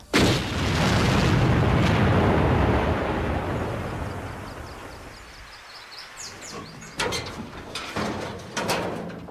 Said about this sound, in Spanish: Hoy compara los efectos de una explosión sobre vehículos con diferentes niveles de protección.